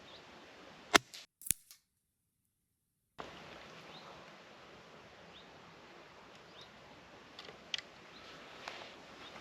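A close, sharp crack from an air rifle firing RTX premium pellets outdoors, quickly followed by a second smaller snap, then a gap of near silence before soft outdoor ambience with faint ticks resumes.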